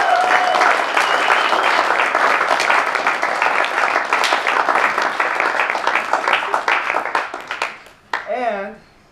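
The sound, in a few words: audience applause for committee members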